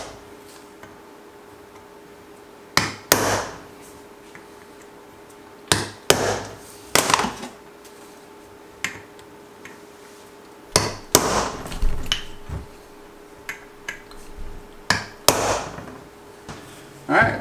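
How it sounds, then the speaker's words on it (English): A hammer sharply striking a punch to ping the clutch bolts of a Yamaha YZ250 during a Hinson clutch install, a handful of loud, distinct metallic taps in scattered pairs and clusters with quiet gaps between them. "So now what we're going to do is ping each of the bolts, 2 on each side. Use a punch."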